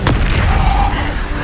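Bombarda spell blast in Hogwarts Legacy, one loud booming explosion with a sharp onset and a rumbling tail that fills the short moment.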